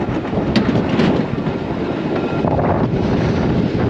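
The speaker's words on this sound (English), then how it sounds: "Quite windy up here." Steady rushing wind buffets the microphone in a constant roar aboard the Rutschebanen wooden roller coaster at Bakken, Denmark, with a faint rhythmic rumble underneath and no voices.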